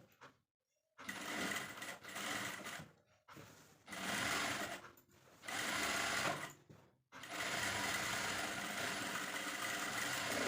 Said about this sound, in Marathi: मी आता दापटीप देते